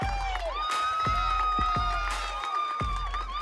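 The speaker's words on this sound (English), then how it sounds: "Listen to that Sullivan crowd." A softball crowd cheers and shouts after Sullivan's win at Bolivar, with loud whoops and high voices, some children among them, over a few sharp thumps and a steady roar of celebration.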